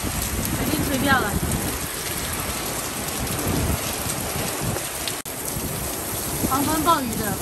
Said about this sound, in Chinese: 狂风暴雨的不得了